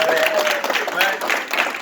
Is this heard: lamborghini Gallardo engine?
no